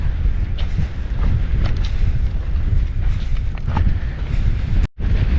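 Strong gusty wind at Piute Pass buffets the microphone in a loud, continuous roar, with a brief dropout near the end.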